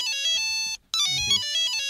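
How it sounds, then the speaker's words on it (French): A telephone-style ringtone plays as a tabletop roleplaying sound effect: a bright melodic electronic ring, a short pause, then a second ring, loud and alone. "vous entendez une espèce de sonnerie qui vous rappelle une sonnerie de téléphone."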